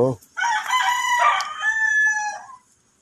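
Close rooster crowing once in a long, strained cock-a-doodle-doo, preceded by a short cluck, then fading to silence.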